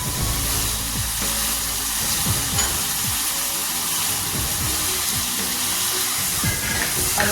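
Raw plantain pieces sauté with tomato in a hot pan, giving a steady, close sizzle with occasional soft stirring clatter throughout.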